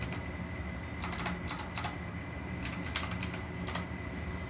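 A command is typed on a computer keyboard at a Windows command prompt. Quick close bursts of keystrokes come in several clusters, with short pauses between them, over a quiet room hum.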